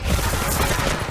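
Dense automatic gunfire in the Apex Legends Mobile video game, a loud, continuous rapid burst of shots with no pauses and no talking.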